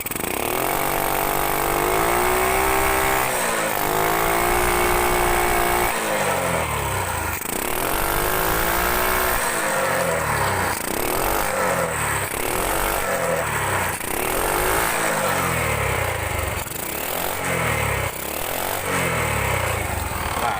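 A motorcycle engine with a carburetor that sprays fuel when throttled is revved repeatedly in rising and falling blips over a loud, continuous idle, recorded up close.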